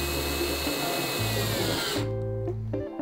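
Powerful cordless drill driving a screw with a PZ bit, a loud close whine with pitch steps as the motor loads and eases, then a stuttering run of short bursts as the screw seats.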